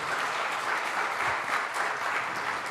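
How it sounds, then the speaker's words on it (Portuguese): A church congregation applauds during a sermon, a steady wash of clapping at moderate distance that fills the whole moment without speech. "Nós podemos aplaudir Jesus por isso?"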